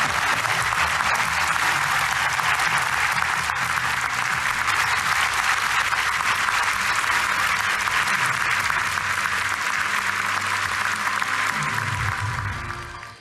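Sustained, enthusiastic applause fills the closing ceremony of the 18th Pyongyang International Film Festival, a dense, steady roar of many hands from a large audience that keeps up for nearly the whole span before tapering off at the end.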